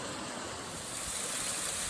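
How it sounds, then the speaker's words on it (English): Twin waterfalls side by side on the Foley Peak trail in Oregon pour as a steady, dense, broadband rush, close and continuous with no break. "we've got another couple of waterfalls, this time right next to each other"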